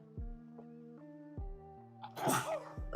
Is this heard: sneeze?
yes